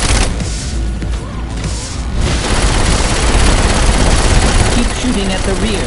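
Gunfire aimed at an armored tank in the video game Saints Row IV, a loud, dense wash of shots and booming impacts that continues throughout, with talk partly mixed in.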